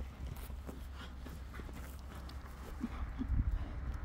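A horse moving along, its hooves giving soft, irregular clip-clop steps that grow a little louder near the end over steady low outdoor rumble.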